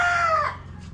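Farm chickens with a rooster crowing close by, a single loud crow that fades after half a second, followed by soft clucking.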